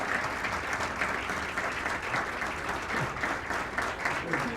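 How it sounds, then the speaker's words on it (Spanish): Steady, sustained applause from a large audience at a Spanish-language law forum on access to justice, a continuous dense wash of clapping at even loudness throughout. "Fuerte. Aplauso."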